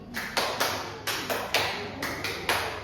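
Hand claps in an elementary classroom clapping game, a string of crisp, close claps in a loose steady rhythm, about three per second, with no talking.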